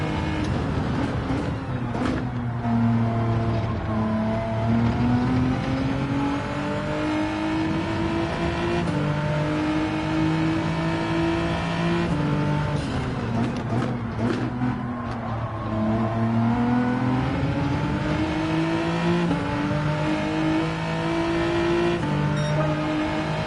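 A Bentley race car in Gran Turismo 7 on a time trial at The Mountain, its engine droning loud and steady with pitch climbing through gears, dropping at shifts and rising again, no voices over it.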